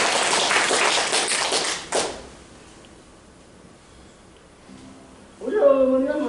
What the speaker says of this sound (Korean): 어머님을 위해서 박수 보내드리겠습니다